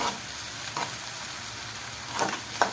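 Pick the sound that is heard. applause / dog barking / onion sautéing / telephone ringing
onion sautéing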